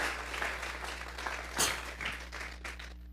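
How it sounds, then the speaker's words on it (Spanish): A church congregation applauds during a Spanish-language sermon, a steady wash of clapping over a low hum, with a few louder individual claps and no speech. "Si son para el Señor, dele fuerte esas palmas."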